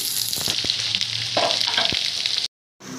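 Chopped onions sizzle as they sauté in a pan, with crisp spatula clicks and scrapes over the frying hiss. The sound stops suddenly near the end, then resumes softly.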